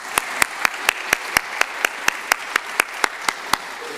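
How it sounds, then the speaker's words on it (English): Rhythmic clapping at a live-streamed event, sharp claps in a steady even beat about four per second, fairly close, with a faint murmur of room noise underneath. "Let's get in the habit of clapping for those videos"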